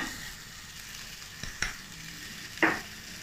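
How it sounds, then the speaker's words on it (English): Carrot and ginger slices sautéing in a pan, a steady gentle sizzle broken by a few sharp utensil scrapes and taps, with no speech. "Keep sauteing for a short while."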